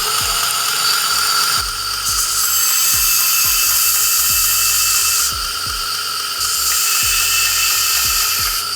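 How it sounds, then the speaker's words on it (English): A 2x72 belt grinder with a fresh belt grinds tabs off metal knife and balisong hardware parts, a loud, continuous abrasive roar with repeated short thumps as parts are pressed on, close up. "This is our 2x72 belt grinder."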